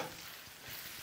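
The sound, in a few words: stirring minced meat and onion in a frying pan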